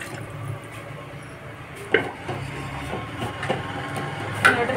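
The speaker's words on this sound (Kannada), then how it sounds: "ಈಗ ನಮ್ಗೆ ಎಷ್ಟು ಸಾರು ಬೇಕೋ ಅದು ನೋಡಿ ನೀರು" Water is poured into a cooking pot for saaru, a soft, close splashing and trickling with a few small clinks and drips.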